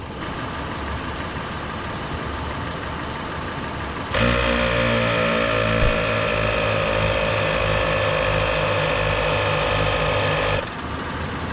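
An ARB portable air compressor starts abruptly and runs with a loud, steady mechanical drone and a buzzing hum for several seconds, then cuts off against a noisy outdoor background.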